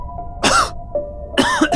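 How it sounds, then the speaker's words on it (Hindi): A person coughing and choking right after sipping tea, two harsh bursts of coughs with throat-clearing rasps in between, close and loud in an otherwise quiet space. "चाय का एक सिप लेते साथ ही मुझे खांसी आने लगी। मेरा गला चोक हो रहा था।"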